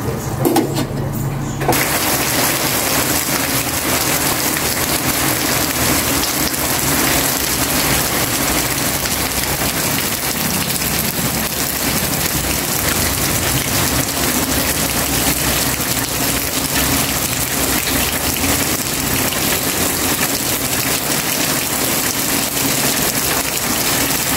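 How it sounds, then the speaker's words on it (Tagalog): Heavy rain falls steadily outdoors during a wet midday in a rural home, a loud, constant hiss of drops on surfaces. Faint engine and bird sounds sit underneath, and there is no talk. "Isang maulan na pananghalian dito sa aming lugar."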